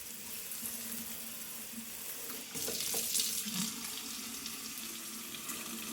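Water spraying from a Moen Riley pull-down kitchen faucet into a sink, a steady hiss that swells louder partway through as the spray mode engages, with no talk.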